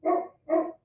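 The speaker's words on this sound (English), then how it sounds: "I'm at home and my dogs are going to bark" Two quick barks from pet dogs at home, sharp and close, with a brief pause between them and nothing else heard.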